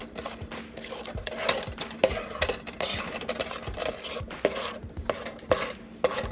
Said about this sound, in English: Stick it all and mix it all together here